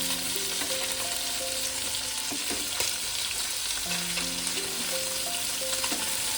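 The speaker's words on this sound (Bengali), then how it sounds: "দেখুন, এইভাবে ভেজে নেব আমি মাছগুলো" Fasha fish frying in a frying pan, a steady close sizzle of hot oil with scraping stir and turning clatters, several brief tonal clinks, no voices.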